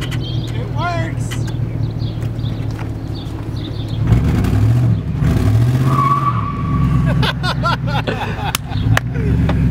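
Former police car driving and skidding: engine revving with tires squealing in sharp bursts, loud and close, while people talk and shout around it.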